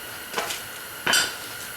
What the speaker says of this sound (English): Where did that wrench drop to?